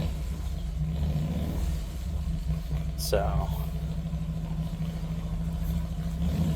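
A rough engine idles steadily nearby with a low, uneven rumble; a brief whine sweeps past midway, and a voice speaks a word at the start.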